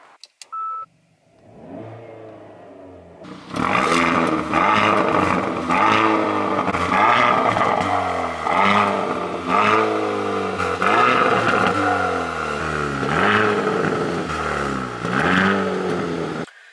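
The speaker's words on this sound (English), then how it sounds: "So what we're going to do now is give the car some revs." A Hyundai i30N hatchback engine is revved repeatedly while stationary, loud and close, with a series of rising and falling surges over a steady idle and no talking.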